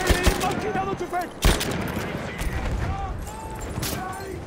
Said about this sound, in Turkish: Dikkatliyim, makinalı tüfek.